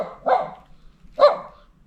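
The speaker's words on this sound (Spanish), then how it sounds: "El silencio solamente interrumpido por el ladrido de ese perro." A single dog barks twice, about a second apart, in an otherwise quiet street of a Guadalajara village, each bark short and moderately near against near silence.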